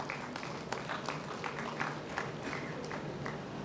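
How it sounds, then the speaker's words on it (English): An audience at a conference valedictory session claps for a prize winner stepping onto the stage. The applause is a quiet, continuous patter, heard from a distance, with scattered sharper claps standing out. "Give him a big round of applause."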